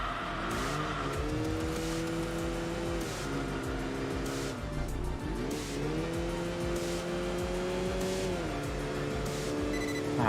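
Mercedes race cars howl through a hairpin in Enthusia Professional Racing, the engine note steadily rising and dropping through gear changes, with continuous tire noise and another car close behind.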